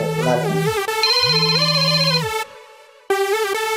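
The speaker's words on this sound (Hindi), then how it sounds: "अभी कॉल आई है।" A mobile phone rings with an incoming call in a Pakistani drama scene, a loud electronic melodic ringtone with repeating tonal phrases, a short gap, then the tune resumes, with no talking.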